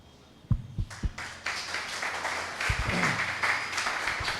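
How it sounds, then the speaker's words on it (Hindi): Audience applause at a church sermon about Jesus: a few scattered claps at first, then a thin, steady patter of clapping from a congregation, moderately loud, with no talk over it. "तालियों में कंजूसी है अभी भी।"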